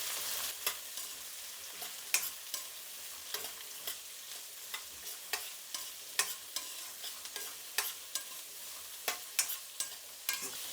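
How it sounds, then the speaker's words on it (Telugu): Vegetables sautéing with softened onions in a pan for a ragi idli dish, heard as a steady low sizzle broken by regular sharp scraping clicks of a spoon stirring against the pan, close and without talk. "అన్ని కూరగాయలు వేసేస్తున్నాను. ఇప్పుడు ఈ కూరగాయలు అనేది బాగా మగ్గించాలి."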